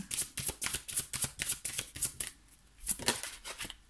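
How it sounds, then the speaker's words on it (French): Oracle cards are shuffled by hand in a fast, even series of soft riffling flicks, a short pause, then another burst of shuffling, close and fairly quiet with no talk. "Allez, une autre carte avec cet oracle."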